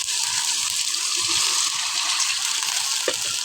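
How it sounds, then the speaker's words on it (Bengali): Water gushes into a pan of frying beef with ginger-garlic paste, a close, steady pouring rush with a small clink near the end. "তো এখন আমি পানি দিয়ে দিব।"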